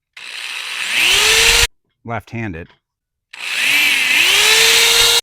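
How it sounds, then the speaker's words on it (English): Power drill boring pilot holes in a gate: two loud, close bursts of whining motor and grinding bit, split by a short spoken remark. "So I'm going to put these pilot holes in"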